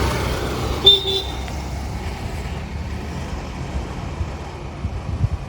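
Road traffic near a forest-edge village by Jim Corbett, with a short car horn toot early on and a steady rumble of passing motor vehicles and wind noise throughout.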